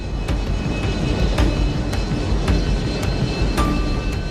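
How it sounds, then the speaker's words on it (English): A low-flying plane descending overhead, heard as a loud, continuous engine drone with faint sharp ticks recurring at a regular pace and no speech. "But as the plane descends"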